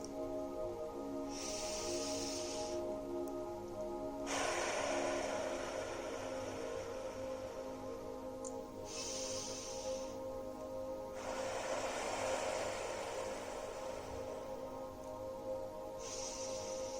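Three slow, deep breaths of a guided meditation, each a soft, airy inhale and exhale, rise and fall over a steady low tonal hum.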